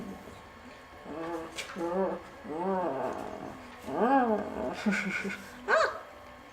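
Dogo Argentino puppy making a run of whiny yelping and howling cries, close and fairly loud, with a person talking over it.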